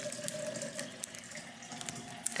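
Tap water running steadily into a vase for cut flowers, a close, continuous splashing hiss with a few small clinks, and no talking.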